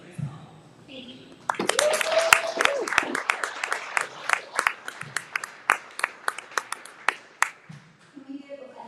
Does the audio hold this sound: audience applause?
yes